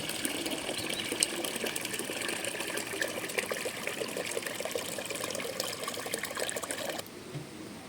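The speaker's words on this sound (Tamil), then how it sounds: "பத்து லிட்டர் தண்ணி ஊற்றிடலாம்" Water pours steadily into a ten-litre bucket while an asafoetida solution for a natural pest repellent is prepared. The pour is a continuous, close, trickling rush for about seven seconds and then stops abruptly.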